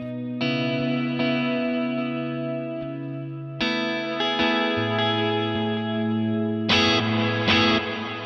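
An electric guitar plays sustained chords and notes drenched in delay and reverb, each strum trailing into echoing repeats, with no talking.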